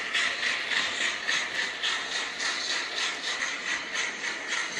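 Hornby TT:120 model trains running on a layout, a steady hissing rumble with faint rhythmic wheel clatter, continuous and fairly close throughout.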